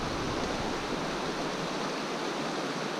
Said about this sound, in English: Got water flowing in real good and hard right here.